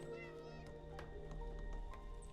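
A cat meows repeatedly in a video game, short tonal cries layered over game sounds and music, moderately quiet and steady.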